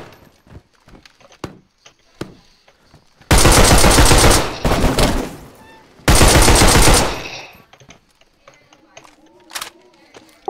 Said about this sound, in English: Just shooting at a zombie.